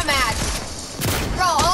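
Rapid bursts of SMG fire in Fortnite crackle in quick succession over a short span, mixed with voices talking.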